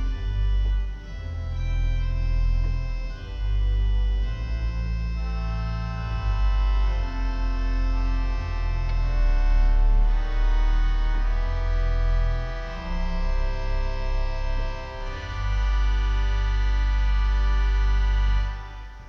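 A pipe organ's viola da gamba stop, enclosed under expression, plays a slow passage of sustained, reedy, string-like tones for nearly twenty seconds, rich and full with a deep bass underneath.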